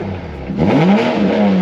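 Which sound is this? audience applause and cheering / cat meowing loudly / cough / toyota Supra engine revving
toyota Supra engine revving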